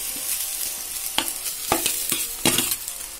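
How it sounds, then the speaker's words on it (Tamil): Cooked rice stirred with a spoon in a hot pan for home-made coconut rice, soft sizzling under a few sharp scraping strokes against the metal, close and without speech. "இப்ப நம்ம வேக வச்சு வச்சிருக்கிற சாதம் போட்டுக்கலாம்."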